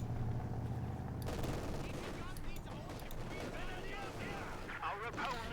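Gunfire in Company of Heroes 2 during a Wehrmacht versus Soviet match, with rattling bursts and scattered shots from infantry and a T-34 heard fairly faint under continuous commentary.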